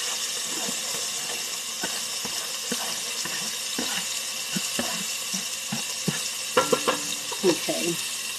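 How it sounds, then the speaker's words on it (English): Onions and garlic cooking in a pot for beef tips and gravy, giving a steady low sizzle with scattered stirring clicks and scrapes, a few louder knocks near the end. "these onions and this garlic is just going to cook for about 2 minutes"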